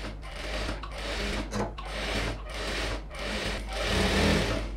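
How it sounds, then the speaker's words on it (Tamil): A sewing machine runs steadily, stitching the lining of a pattu pavadai with a close, continuous mechanical whir and brief pauses between bursts, with no talk. "படிமான தையல் போட்டுறேன், ஃபுல்லாக போட்டாச்சு."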